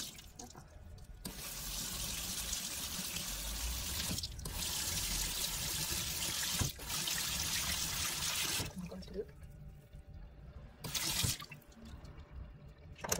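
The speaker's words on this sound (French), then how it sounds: "on voit l'eau qui coule, qui est totalement claire" Tap water running steadily while makeup brushes are rinsed by hand in a sink, a continuous close splashing flow that cuts off briefly a few times.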